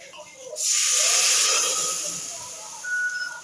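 Water poured into a hot pan to cook semolina for kozhukattai upma, bursting into a loud, close, steady hiss that slowly fades, then swells briefly again.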